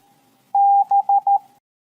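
Morse code letter B keyed as a clean single beeping tone in navy signalling training: one long dash followed by three short dots, crisp and isolated against silence.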